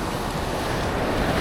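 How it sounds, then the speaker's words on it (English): Big ocean waves crash and surge steadily on an El Salvador beach, a loud, continuous roar of surf mixed with wind buffeting the microphone. "The waves are so big."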